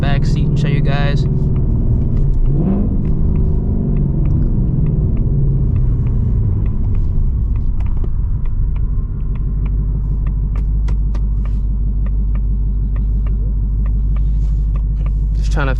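A 2024 Mustang GT's engine rumbles low and steady from inside the cabin while driving and turning, with a person talking over it throughout.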